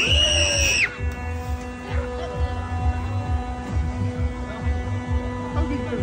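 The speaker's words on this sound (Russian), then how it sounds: "Как кричат! Как же кричат!" Crowd of riders screaming on an amusement park drop ride, a loud burst of high screams that cuts off after the first second, leaving a steady low hum with faint distant noise and muffled voices.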